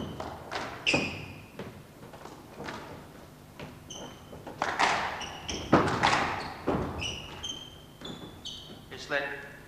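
Squash ball struck on a backhand drop shot during the 1991 World Open final between Jahangir Khan and Rodney Martin, sharp thuds and taps off racket and walls echoing in the court amid crowd noise and commentary.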